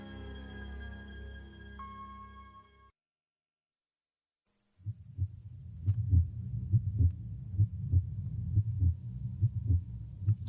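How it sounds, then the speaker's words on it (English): After a stretch of soft tones and a short silence, a heartbeat begins, with low muffled thumps pulsing in a steady rhythm and growing louder toward the end. "I hear the beating of a troubled heart"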